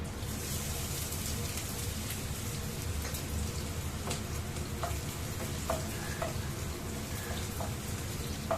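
Chopped ginger sizzles in hot oil with a continuous soft frying hiss. Occasional light clicks and taps from stirring sound close by, with no talking.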